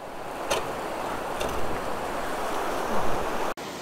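Continuous rushing of flowing river water, a broad steady roar heard close by, with a couple of brief brighter splashes and no voices.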